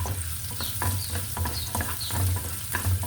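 Tomatoes sizzle and crackle in a hot pan while a utensil stirs and scrapes them in short, repeated strokes.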